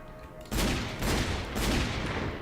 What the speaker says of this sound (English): Clack, clack, clack. Bang, bang, bang, bang! Machine gun!